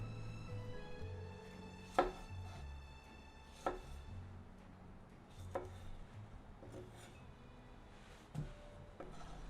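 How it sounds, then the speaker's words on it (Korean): Two tomatoes being sliced into eighths with a knife on a cutting board, a handful of sharp chops spaced a second or two apart over a steady low kitchen hum. "토마토는 두 개를 각 8등분으로 썰어 주세요."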